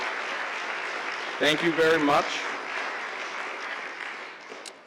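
Applause from an audience honoring teachers during Teacher Appreciation Week at a civic education talk, a broad steady wash of clapping throughout, with a voice briefly speaking over it midway.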